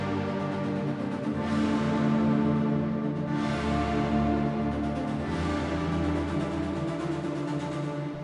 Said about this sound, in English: we want this long reverbs on the returns, so that we have this really big, deep, whooshy ambient